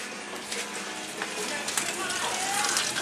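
Buffalo wings crackle and sizzle steadily as they cook, a dense spray of close, bright pops and snaps with no one talking.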